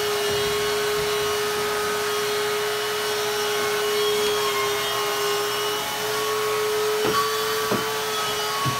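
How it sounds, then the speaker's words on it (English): Vacuum cleaner running with a steady, loud whine and hum throughout, with a few faint knocks near the end. "Vacuuming with a tie?"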